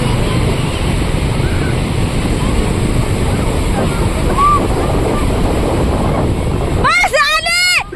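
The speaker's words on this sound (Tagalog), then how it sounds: "At tuwang-tuwa nga po ang aming cute Baby Ali sa alon." Steady, loud roar of ocean surf rolling onto a busy beach crowded with swimmers, with wind buffeting the microphone; a voice starts speaking over the waves in the final second.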